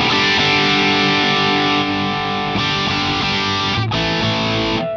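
An electric guitar plays through a Two Notes OPUS with its EQ switched off, giving a loud, sustained, heavily distorted chord tone. There are brief breaks where the notes change.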